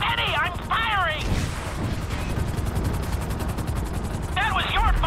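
Grand Theft Auto V gunfire rattles in a rapid burst amid helicopter-like droning and chaotic game sounds, with voices shouting before and after the volley.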